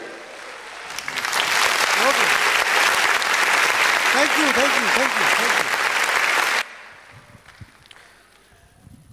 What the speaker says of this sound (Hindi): जोरदार ताली हो जाए एक बार खुद के लिए।